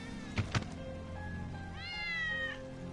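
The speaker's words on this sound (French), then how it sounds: "C'est Patty, le chat de Wedge" A cat in the video game Final Fantasy VII Remake gives a drawn-out, rising and falling meow after two soft thumps, close and clear over a quiet game background hum.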